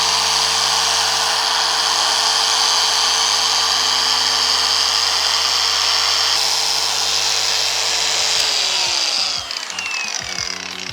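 A machine polisher working wax into car paint on a B-pillar whines steadily and loudly with a constant high-pitched motor tone, then winds down near the end, alone without talk.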